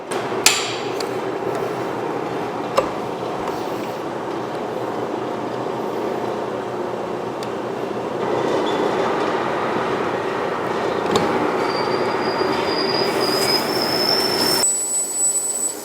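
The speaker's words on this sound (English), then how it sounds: "this carbide countersink is definitely doing the job better than the carbide drill did" Continuous harsh metallic grinding and screeching of a carbide countersink biting into AR500 armor plate steel, steady and loud, with a few sharp knocks and a rising high whine near the end.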